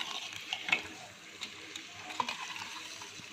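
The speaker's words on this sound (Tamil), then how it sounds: "இதை நல்லா இந்த மாதிரி நல்லா மிக்ஸ் பண்ணிக்கோங்க" Egg biryani masala is stirred and mixed in a pan, producing quiet soft sizzling with scattered scrapes and clinks of a spoon against the metal.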